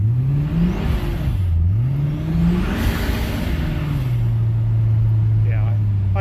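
An old truck on wet, fat tires revs its engine while the wheels get no traction. The steady, loud engine drone rises and falls in pitch, then settles to an even hum.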